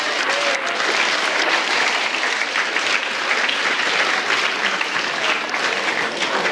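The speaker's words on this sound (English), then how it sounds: "Let's have a round of applause for antimony." Sustained audience applause, a dense, even wash of clapping from a crowd that carries on at steady loudness without a break.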